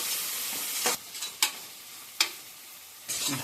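A spatula stirs tomato with ginger-garlic paste in a hot pan, giving a soft sizzle broken by four sharp scrapes spaced unevenly, close by.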